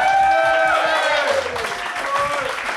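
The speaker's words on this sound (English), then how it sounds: "Give yourselves a round of applause." Studio audience applause at a live festival programme, a dense continuous wash of clapping with some cheering, steady and fairly loud throughout.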